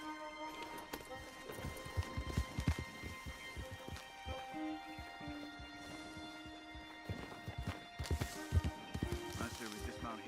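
Horse hooves clip-clop on the ground in Red Dead Redemption 2, a steady trotting rhythm close by with occasional snorts and whinnies, under a continuous musical score and game ambience.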